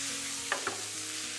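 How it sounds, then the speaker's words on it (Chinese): Egg, onion and green and red bell pepper slices tossed in a wok over high heat: a low, steady sizzle with a couple of sharp metallic scrapes from the spatula near the middle. "继续开大火给它翻炒"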